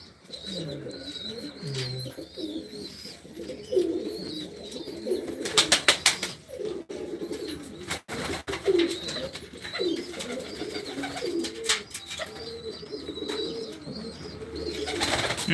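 Pigeons coo in soft, repeated low calls amid scattered chirps and a brief flutter of wings, with a faint outdoor background throughout.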